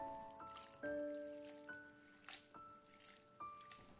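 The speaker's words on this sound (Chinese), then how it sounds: "往里面倒入适量的清水， 给它清洗一下，先洗掉表面的灰尘" Freshly picked elm seeds being washed in a bowl of clean water, faint splashes, drips and trickles with a few small clinks, quiet and close.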